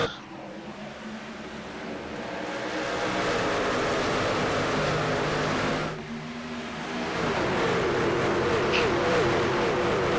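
Race trucks in a racing video game restarting at Kansas, their engines building to a loud, sustained roar of many motors together, dipping once briefly, under a commentator's talk.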